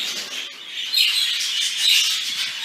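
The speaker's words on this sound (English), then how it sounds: "you can see that I'm carrying a stack of birds in here" Pet birds chirping together inside an aviary flight, a dense, steady chorus of high tweets and calls fairly close by, with no voices.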